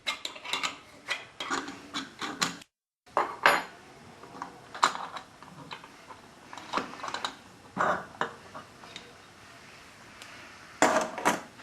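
Sharp metallic clinks and clanks of an upper clamp being loosened and removed from an Alfa Laval stainless valve, coming in scattered bursts with brief pauses and one near-silent gap.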